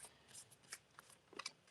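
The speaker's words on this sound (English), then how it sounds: "I'm just giving the deck a shuffle" A tarot card deck is shuffled in a quiet room, with soft riffling and papery snaps that come in short irregular bursts, close and faint, and no talking.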